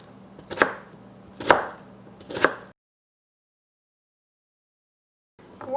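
A kitchen knife dices vegetables, celery among them, for clam chowder: three crisp, evenly spaced chops close on a board, followed by silence and a faint rustle at the end.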